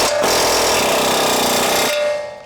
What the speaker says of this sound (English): we're gonna go ahead and just take our 24mm socket and just tighten these up real quick.